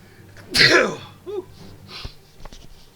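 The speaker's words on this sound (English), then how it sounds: "About to sneeze." A single sharp, loud sneeze bursts out close by, followed by quiet sniffs and faint breathy noises.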